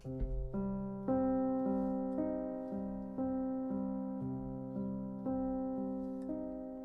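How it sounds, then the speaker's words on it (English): A minor chord is struck on a piano and played again several times in a slow, even rhythm, each time ringing out softly and then fading, quiet and close, with no talking. "but if you want a minor chord,"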